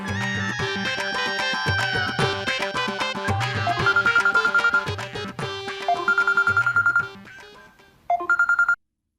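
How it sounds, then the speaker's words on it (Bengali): An electronic phone ringtone plays a repeating melodic jingle, loud and clear, then cuts off abruptly near the end; nobody speaks. "ফোন দিছো কেন আব্বাস"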